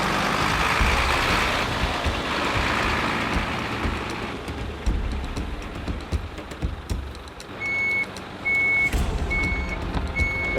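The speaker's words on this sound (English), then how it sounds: "I turned the truck around because the front wheels are slipping when they were trying to go in reverse" A truck turning around on rough ground, its engine rumbling and tyres crunching, then a steady series of high reversing beeps repeating near the end; no speech.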